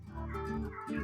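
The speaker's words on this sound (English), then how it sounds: "That's my cat." A pet cat named Blue gives a couple of drawn-out, wavering meows close by, indoors, with no talking over them.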